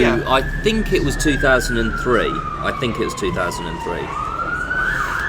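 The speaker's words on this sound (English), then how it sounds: "what you're hearing there is an ambulance" An ambulance siren wailing in a long, slowly falling and rising tone behind people talking over it, loud and steady throughout.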